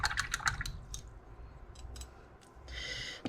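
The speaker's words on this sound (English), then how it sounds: "Right, clean my brush off." A paintbrush is rinsed in a pot of clean water during a crafting session, giving faint, close splashes and drips, with a few sharper swishes near the start and a soft rush at the end.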